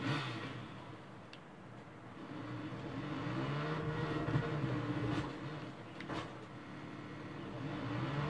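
Steady engine drone of a motorbike ridden in Watch Dogs 2, a continuous mid-loud hum with slight rises in pitch, running alone without talk.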